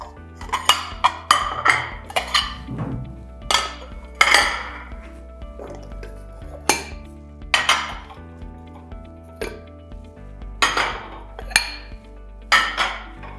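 Dishes and cutlery are set out while a home is staged for listing: irregular bright clinks and clatters of ceramic, glass and metal, close by and fairly loud, spaced across the whole stretch with short pauses between.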